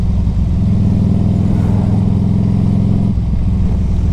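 A 2003 Harley-Davidson Electra Glide Classic motorcycle engine rumbles steadily and loudly at close range, a deep continuous drone that eases slightly near the end.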